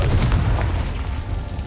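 A Confringo fire spell bursts in the Hogwarts Legacy video game: a loud, deep boom with rumbling low end that decays over a second or so, with no voices.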